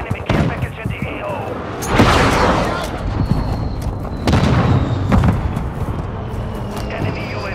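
Artillery fire mission strike in Call of Duty: Modern Warfare II, with heavy booming blasts and rumbling impacts rolling in repeatedly over continuous gunfire and battlefield noise.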